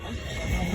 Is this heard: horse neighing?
yes